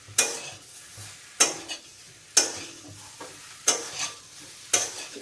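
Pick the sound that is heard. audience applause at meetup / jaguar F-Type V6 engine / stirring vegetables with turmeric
stirring vegetables with turmeric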